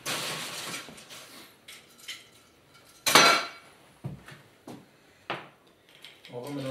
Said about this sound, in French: On va encore ajouter un tout petit peu de glaçon